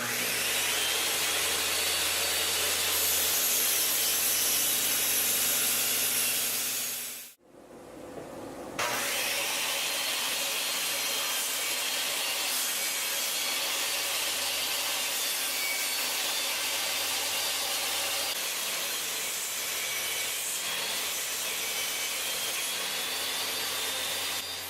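A homemade table saw rips through wood with a loud, continuous rushing whine that cuts out briefly about a third of the way in, then resumes and runs steadily to the end.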